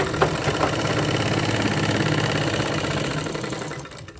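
A sewing machine runs steadily while stitching a pocket seam, a continuous mechanical motor hum with rapid needle clatter that carries on for several seconds and fades slightly at the end.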